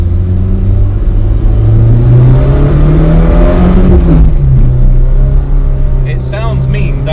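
A 1988 VW MK1 Caddy's engine revs loud and close, with a rising, sustained roar that drops back near the midpoint, then settles into a steady drone. Someone talks briefly near the end.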